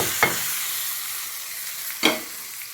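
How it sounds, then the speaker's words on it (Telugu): Spices for tempering sizzle in hot oil with a soft, steady frying hiss. Two sharp spoon clinks against the pan stand out near the start and again about two seconds later. "చిన్న సప్పుడు వస్తుంది కదా, అలా అంటే ఏగిపోయినట్టు."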